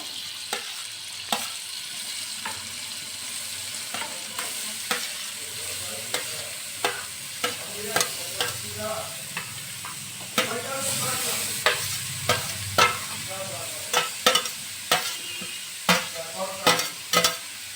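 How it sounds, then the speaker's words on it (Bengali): Grated carrots stirred and fried in a pan for gajar halua, a soft continuous sizzle punctuated by regular sharp spatula scrapes and taps that grow more frequent and rhythmic, close by with no speech. "এখন আমি গাজরটা দিয়ে একটু নাড়াচাড়া করে ভেজে নেব।"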